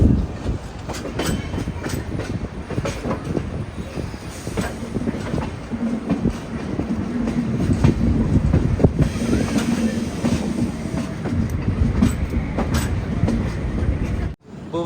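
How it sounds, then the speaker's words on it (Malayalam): Passenger train on the Bhubaneswar to Chennai route rolling into Visakhapatnam Junction, a steady loud rumble of wheels on rails with rhythmic clatter and occasional squeal, heard from on board, ending in an abrupt cut. "444 കിലോമീറ്റർ യാത്ര ചെയ്ത് ട്രെയിൻ ഇതാ വിശാഖപട്ടണം ജംഗ്ഷൻ സ്റ്റേഷനിലേക്ക് എത്തിക്കൊണ്ടിരിക്കുകയാണ്"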